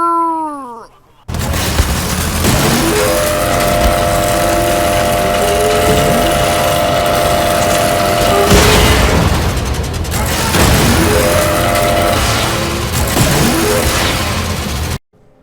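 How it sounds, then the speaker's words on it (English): A laser gun fires in Wolfenstein II: The New Colossus, letting out a loud, sustained whirling, humming drone with rising tonal whines that runs about fourteen seconds, briefly dips midway, then surges again before cutting off. "You get like a laser gun, and the noise this thing makes"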